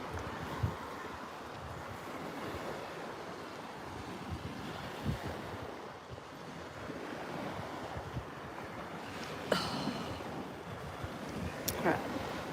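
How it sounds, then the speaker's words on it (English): Wind blows steadily outdoors, a broad rushing roar with gusty buffeting against the microphone throughout and a couple of sharp knocks toward the end. "Oh, it is a bit windy."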